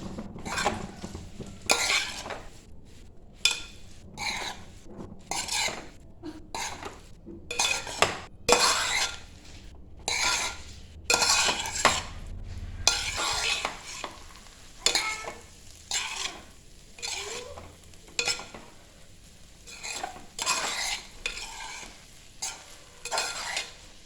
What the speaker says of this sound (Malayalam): നമ്മുടെ ചോറ് ചേർത്ത് കൊടുത്തിട്ട് നന്നായിട്ട് മിക്സ് ചെയ്ത് കൊടുക്കുക